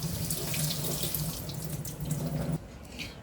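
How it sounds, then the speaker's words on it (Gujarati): Water runs steadily from a tap over falsa berries being rinsed, close and continuous, then cuts off near the end. "નળ નીચે આવી રીતે તમે ધરશો એટલે સરસ ચોખ્ખા થઈ જશે"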